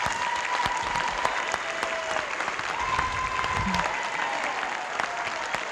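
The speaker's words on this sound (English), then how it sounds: "if you can give them another round of applause" Audience applauding teachers at a Milken Educator Award school assembly, steady sustained clapping from a large crowd filling the whole stretch, with faint voices mixed in.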